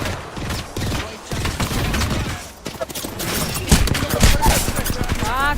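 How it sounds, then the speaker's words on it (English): Bursts of close automatic gunfire in Apex Legends rattle in quick volleys, loud and busy, with voices talking over the shooting. "Getting shot at."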